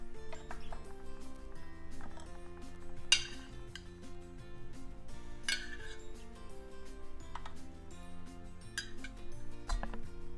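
Batter is spooned into a greased muffin pan for sweet potato egg muffins, with repeated light metallic clinks and scrapes of a spoon against the tin in a steady, unhurried rhythm, nearby and fairly quiet.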